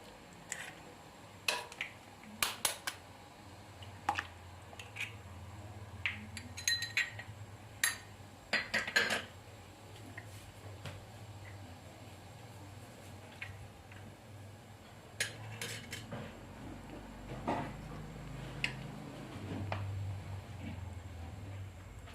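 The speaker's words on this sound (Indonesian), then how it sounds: "Kita aduk-aduk ya teman-teman." A spoon scrapes and clinks against a pot while macaroni and eggs are stirred for seblak. The taps come in scattered bursts with quieter stretches between them, set over a low steady background hum.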